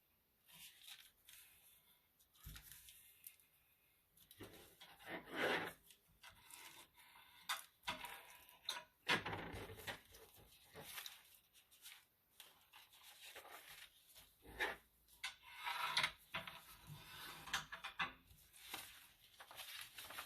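Folded paper being burnished by hand for a junk journal, irregular soft rubbing and scraping strokes in short bursts, quiet and close with no talk.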